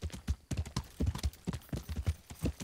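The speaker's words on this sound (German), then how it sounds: "Dann bleibt mein Pebbles hier auch schön auf dem Weg und wir reiten schon mal voraus." A horse's hooves clop along at a steady trot while riding in the video game Kingdom Come: Deliverance, a quick, evenly paced series of close, clear footfalls with no talking.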